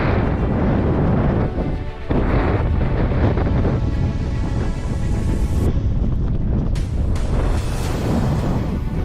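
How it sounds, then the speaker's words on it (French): Strong, cold wind in Swedish Lapland roars loud and close as continuous broadband buffeting against the microphone, with gusts swelling throughout and no speech. "Il y a beaucoup de vent."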